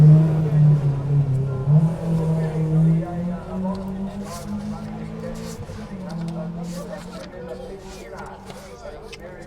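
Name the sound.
Datsun 1600 rally car accelerating up the hill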